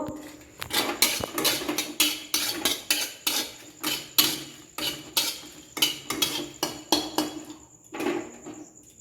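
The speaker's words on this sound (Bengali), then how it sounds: "লঙ্কাটা ভেজে নেব।" Dried red chillies being fried in a pan set off rapid, rhythmic metallic scraping and clattering strokes from a spatula, close and fairly loud throughout.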